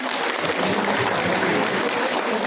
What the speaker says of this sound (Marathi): टाळ्या वाजून स्वागत करा सगळ्यांनी